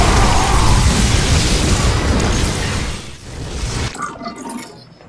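Ships explode in a StarCraft II: Legacy of the Void game with a loud, rumbling boom and crackling blast that roll on for several seconds, then cut to fainter scattered pops and debris.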